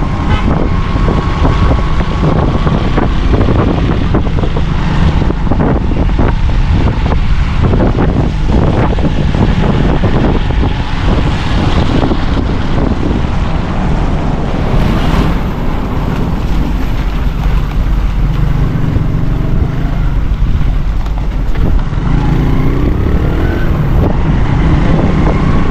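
A vehicle drives through rainwater on a flooded road near an underpass in Karachi, with a constant loud wash of splashing and rushing water mixed with engine and wind noise for the whole stretch.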